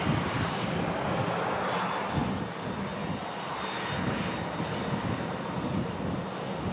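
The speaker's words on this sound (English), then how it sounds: "Next heavy is going to be the 330 of Aer Lingus." An Aer Lingus Airbus A330 jet at Manchester Airport roars steadily in gusty wind, a continuous loud engine rumble with wind buffeting the microphone throughout and no voices.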